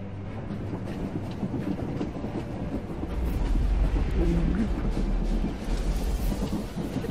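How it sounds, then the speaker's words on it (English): A moving train in the Star Wars: The Old Republic video game, a steady, heavy rumble and rattle of rolling carriages that deepens and swells midway, loud and continuous. "The train is on the move, and the traitor's on board."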